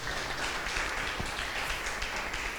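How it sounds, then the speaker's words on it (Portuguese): A church congregation applauds steadily, a dense wash of clapping that holds at an even level throughout with no voices standing out. "dê um aplauso ao Senhor"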